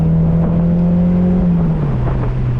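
A Mazda Miata's engine holds a loud, steady drone at close range during a 2023 autocross run, its pitch sagging slightly as the car eases through a turn.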